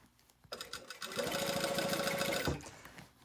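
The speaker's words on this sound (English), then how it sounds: "now you're going to sew down" A sewing machine stitches down a dress lining, starting after a brief pause and running steadily at a close, even whir for about two seconds before stopping.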